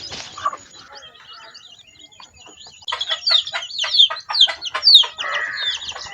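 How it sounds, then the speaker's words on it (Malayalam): Two-week-old chicks peep in quick, high chirps alongside a hen in a small coop, starting sparse and faint, then growing into a dense, louder run of cheeping calls. "രണ്ടാഴ്ചയായ കുഞ്ഞിക്കോഴികളാണിവ"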